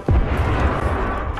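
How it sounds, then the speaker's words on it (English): A grenade going off in Apex Legends, one sudden close boom followed by a dense rumbling tail that fades slowly. "Look out, grenade."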